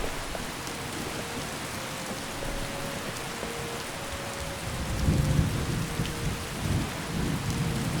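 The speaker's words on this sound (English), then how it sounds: "Man, this rain is just..." Steady rain pours down with rolling thunder in a Skyrim storm, a constant hiss with deep rumbles swelling in the second half, no voices over it.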